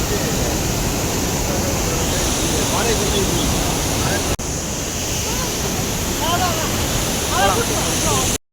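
Birla Falls waterfall at Valparai roars in a loud, steady, close wash of falling water, with a few faint higher calls over it.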